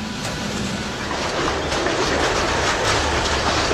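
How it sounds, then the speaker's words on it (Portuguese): A freight train runs along the lines of an old industrial site in Portugal that now serve a single factory, giving a steady, loud rumble with faint rhythmic clickety-clack from wagon wheels throughout. "Agora já só se movimentam por estas linhas os comboios de uma única fábrica."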